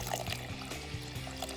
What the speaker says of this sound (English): I'm gonna go ahead and add 3 cups of water